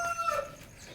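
Chickens on a poultry farm, with a hen running about eager to be fed; a fairly close fowl call rises briefly over faint background clucking and farmyard noise in a short snippet.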